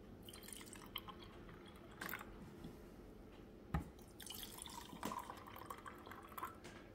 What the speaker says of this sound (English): Okay, next step, we're going to fill the jars. We're going to put these up about halfway.